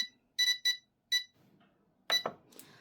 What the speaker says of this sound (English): You can set the alarm tone for EXT voltage here.